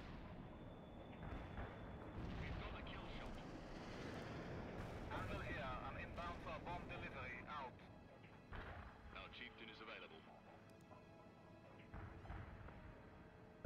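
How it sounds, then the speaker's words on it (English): Airstrike explosions in the World in Conflict strategy game: repeated heavy booms and rumbling blasts rolling through a continuous battle din, with someone talking over the combat throughout. "I'm liking these airstrikes."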